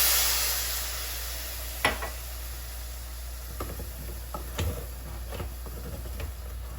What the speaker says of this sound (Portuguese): Vou colocar um pouquinho de água no frango.